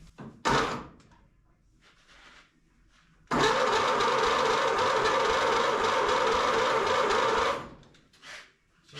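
A 1931 Ford Model A pickup with its original engine cranks over for about four seconds in a loud, steady, even churning rhythm, after a sharp knock and some quieter mechanical clatter, without firing, heard close up.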